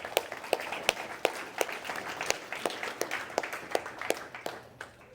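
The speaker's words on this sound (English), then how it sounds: "can we give a round of applause for that?" A small group claps for several seconds at an outdoor Juneteenth celebration, the sharp claps scattered and uneven, gradually thinning toward the end.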